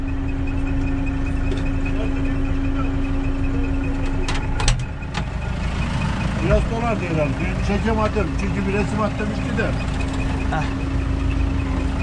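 Hattat 285S tractor idling in a village field, a steady low engine rumble running throughout while someone talks over it close by.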